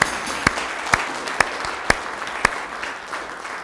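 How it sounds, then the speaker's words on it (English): An audience at a heritage variety night applauds steadily, with dense clapping and a few louder claps standing out, sustained throughout. "we could have a round of applause for Don Kerr, goddammit."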